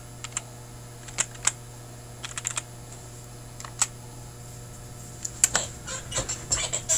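Typing on a computer keyboard: scattered light key clicks, isolated presses early on and a quicker burst near the end, heard close over a steady low electrical hum.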